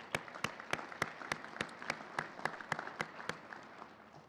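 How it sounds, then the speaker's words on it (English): An audience applauds at a college celebration honoring a national championship men's team, a steady crackle of clapping with sharp, evenly spaced claps standing out and slowly fading over a few seconds. "So applause for Mike Walsh there."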